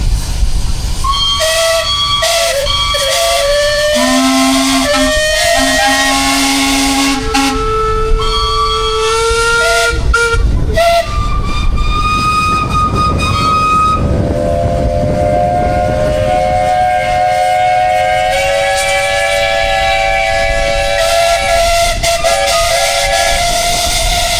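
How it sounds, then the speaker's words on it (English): Several steam traction engine whistles blow together and in overlapping turns at a parade of steam engines, long loud shrill tones of different pitches sounding continuously, with hissing steam underneath. "give us a wonderful toot on their steam whistles to show what British Engine can really do"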